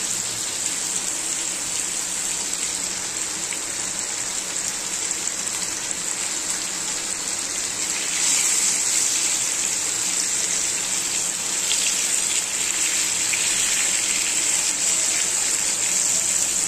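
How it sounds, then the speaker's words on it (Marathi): Steady rain pours down in a continuous, even hiss that swells slightly louder partway through, with no voices. "बाहेर पाऊस पडतोय."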